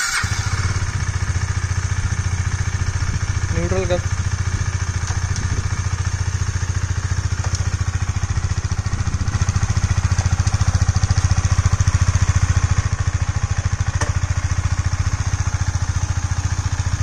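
Stock exhaust of a KTM Duke 250 motorcycle with the dB killer still fitted, engine running at a steady, close idle with a constant low throb throughout and a slight swell near the middle, no talking.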